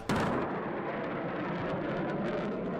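Sonic boom from a jet passing overhead at Mach 1.07 at 2,000 feet, a sudden loud blast followed by a long rumbling roar that holds steady without fading.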